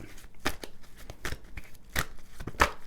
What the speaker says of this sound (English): So now I'm just going to shuffle these cards.